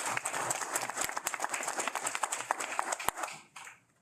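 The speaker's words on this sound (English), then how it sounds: "Let's give them a round of applause." Scattered clapping from a small audience at a proclamation signing for Bicycle Safety Month, distinct individual claps in an uneven patter that thins out and stops near the end.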